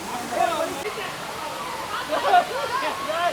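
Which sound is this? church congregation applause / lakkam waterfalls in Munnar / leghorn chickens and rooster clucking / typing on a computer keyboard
lakkam waterfalls in Munnar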